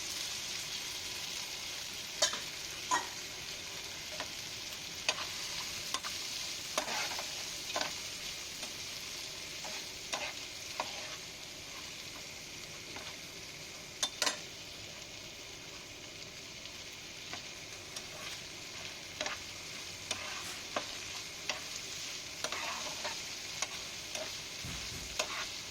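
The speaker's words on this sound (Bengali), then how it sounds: "এইদিকে যে ফ্রাইং প্যানটা বসিয়েছিলাম বলছিলাম না, ওতে আমি চিংড়ি মাছগুলো ভেজে নিচ্ছি" Shrimp fry in a frying pan on the stove with a soft continuous sizzle, broken by scattered pops and crackles and occasional light clicks, faint and without talk.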